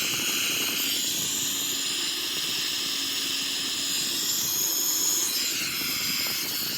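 A Boeing 737NGX jet engine runs in a flight simulator game, a steady loud broadband roar and hiss holding throughout with no talk.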